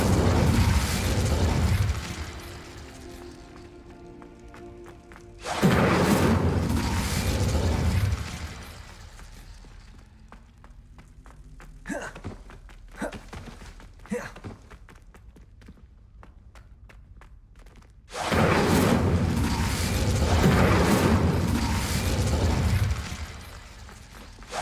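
Bursts of Incendio fire spell casting in Hogwarts Legacy, loud broadband whooshing blasts around the start, middle and end, with quieter crackling pops and clicks between them.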